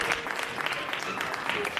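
Dense, steady crowd applause greets a finisher at the Aguilar de Campoo marathon, a continuous patter of clapping throughout.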